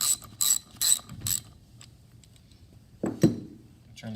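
Pump bearing cover bolts being tightened to snug on a P414/P460A/P480 pump, heard as four quick ratchet clicks in a row, then a pause and two heavier metallic clanks near the end.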